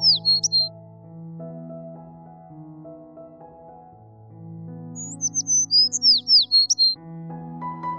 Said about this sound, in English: Birds use songs and calls to communicate with each other, attract mates, and defend territory